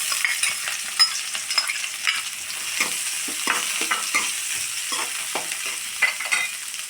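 Onions fry in coconut oil in a pan, a steady bright sizzle with irregular soft clicks and scrapes of stirring, fairly close and continuous with no voices.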